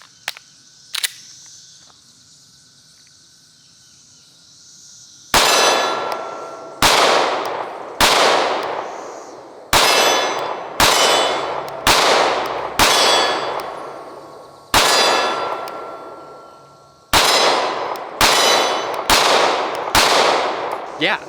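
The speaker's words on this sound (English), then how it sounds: "we're gonna send some rounds downrange and see exactly how well the G3C performs" Taurus G3C 9mm compact pistol fired downrange, about eleven loud, sharp reports in irregular bursts after a few seconds of quiet, each shot followed by a brief ringing decay.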